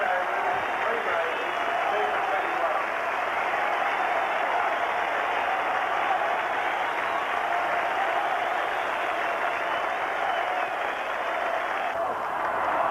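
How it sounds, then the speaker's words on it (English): A cricket crowd at Manuka Oval in 1984 gives a standing ovation, a long, steady wash of applause from many hands that holds evenly for over twelve seconds, heard from a distance with commentary over it. "A standing ovation for Dennis Lillee."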